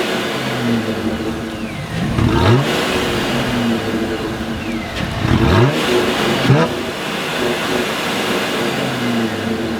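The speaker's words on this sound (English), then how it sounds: "we have the Borla exhaust on this Jeep, and this thing sounds so incredibly mean" A supercharged V6 Jeep Wrangler fitted with a Borla exhaust, revved hard twice from idle with deep, snarling swells that fall back to a throaty rumble, loud and close with no talk.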